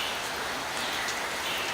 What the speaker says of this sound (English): You can see all the rain now coming down.